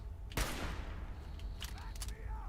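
A single loud gunshot in the video game Fallout 4 fires near the start and decays into a long echoing tail, with faint chirping tones and background game ambience after it.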